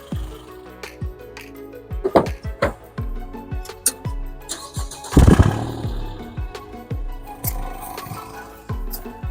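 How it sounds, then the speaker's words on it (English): A car engine runs steadily with a low, rhythmic thrum, punctuated by sharp metallic clicks and clinks, with one louder clattering burst midway. "the engine is not shaking in any way, and it starts right away"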